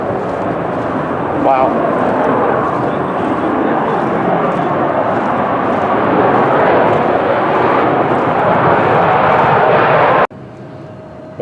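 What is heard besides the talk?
F-35 fighter jet taking off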